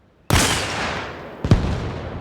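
Two loud rifle shots in the video game Arma Reforger, fired at a long-range target in wind: a sharp crack with a long rolling echo, then a second report about a second later, no talking.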